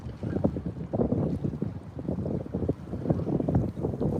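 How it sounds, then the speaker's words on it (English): Strong, gusty wind buffets the microphone outdoors on a holiday-morning dog walk, roaring in uneven surges that rise and fall continuously through the clip, with no voices. "That's how hard the wind's blowing right now."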